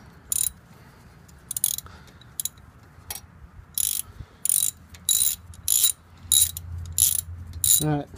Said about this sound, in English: I have a 5/8 inch a standard wrench, and I'm going to see if we can get that to work.